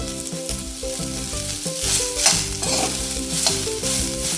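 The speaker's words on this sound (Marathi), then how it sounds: "आता आपण यामध्येच कांदा घालूया आणि कांदा असाच घालूया" Onion is fried in oil in a pan with roasted coconut for Malvani black pea usal. A dense, steady sizzle continues throughout with scraping stirs, and music plays underneath.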